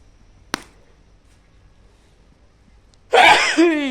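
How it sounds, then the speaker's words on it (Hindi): A single sharp, loud sneeze from a woman near the start of the clip stands out against a quiet room. She then speaks up close a few seconds later. "ओहो छींक आओगी"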